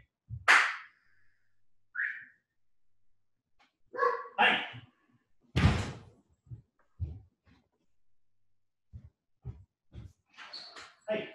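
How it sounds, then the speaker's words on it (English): Dogs barking indoors in the background of a call, several sharp barks spaced out with quieter yips and whines between them, moderately close. "My dogs are barking in the background."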